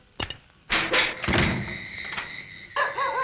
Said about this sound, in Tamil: கதவு தட்டுன சத்தம் உனக்கும் கேட்டுச்சு இல்ல?